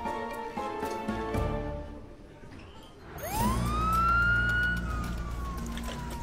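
An ambulance siren rises and wails, cutting in midway as a loud, sweeping tone over low street rumble, after a few quieter tonal sounds at the start.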